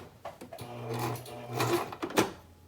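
A sewing machine stitches a neck label onto a shirt in short bursts, the motor hum starting and stopping with a few clicks between runs, close and moderately loud.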